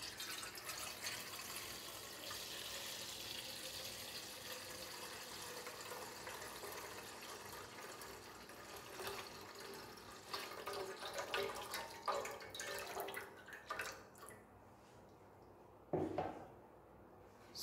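About one litre of milk is poured into a pot for falooda rabri, a soft, continuous liquid pour with a gentle splashing quality that thins out near the end, followed by a couple of faint clinks and a brief thump.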